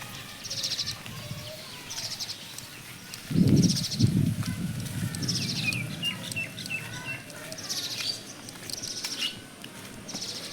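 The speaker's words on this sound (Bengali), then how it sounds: "এটা সম্ভবত একটা বাচ্চা পাখি" A baby bird chirps in a village field after rain, repeating short high tweets at regular intervals, mid-distance, over a soft rustling background with a brief louder thump or flutter partway through.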